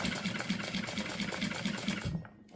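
A sewing machine stitches fabric with a fast, even rhythmic whir of needle strokes, close and steady, stopping abruptly near the end.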